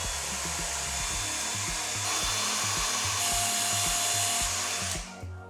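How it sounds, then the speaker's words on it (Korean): A hair dryer blows steadily close by while short bangs are styled, a constant loud airy whoosh with a faint rhythmic low thumping beneath it, cutting off at the end. "그래서 드라이기로 여기는 누르고 여기는 넘겨줄 거예요."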